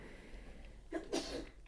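A faint, quick sneeze from one person nearby during a VR sculpting game session, a short sharp burst over a low steady background hum.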